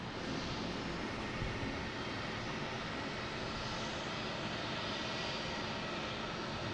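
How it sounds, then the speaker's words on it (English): An Airbus A330 airliner, flight 242, arriving at Boston Logan International Airport: a steady, broad jet engine roar from a distance, constant in loudness throughout with no voices. "There it is. A330 flight 242."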